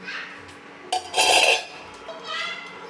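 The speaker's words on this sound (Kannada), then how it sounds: "ಇದನ್ನ ಒಂದು ಮುಚ್ಚಳ ಮುಚ್ಚಿ ಬೇಯಿಸ್ಕೊಳ್ಳೋಣ" A metal lid is set onto a pan while a maize snack cooks. One brief clattering clink stands out close by over a quiet kitchen background, with a voice faintly present.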